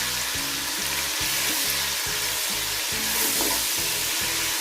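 Tomatoes and salt sizzle loudly in a pot for beef pulao, with rhythmic scraping strokes of a spoon stirring through the frying mixture, close and continuous with no talk.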